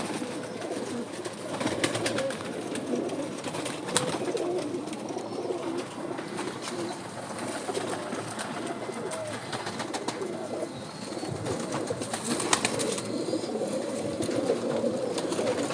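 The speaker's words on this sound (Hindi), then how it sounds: "एक और कबूतर" Several rooftop pigeons coo continuously in a dense, overlapping murmur with occasional wing flutters, and no talking.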